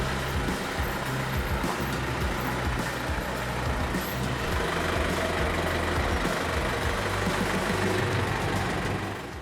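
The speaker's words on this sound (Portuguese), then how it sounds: "O caminhão sai com as caixas" A loaded truck carrying crates of produce pulls away, its engine rumbling steadily and loudly throughout with a faint hiss like air brakes, no voices present.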